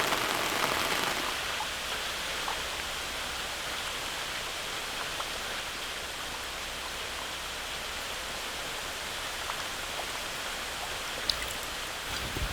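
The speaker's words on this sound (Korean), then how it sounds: "새벽녘 빗소리에 남난희 씨도 잠을 설쳤습니다" Steady early-morning rain falls on a yard outside a mountain house, a dense even patter with a few sharper drops, continuous and without voices.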